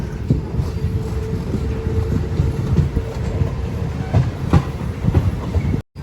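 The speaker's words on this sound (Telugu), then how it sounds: "మళ్ళీ మన ట్రైన్ అయితే స్టార్ట్ అయిపోయింది" A Narsapur–Vijayawada MEMU train pulling out of Palakollu station and running, a loud continuous rumble with rhythmic clatter and wind noise, cutting out briefly near the end.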